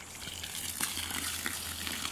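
Water draining out of a backup emergency water tank onto grass, a close, continuous gushing splash with small irregular bursts over a low steady hum.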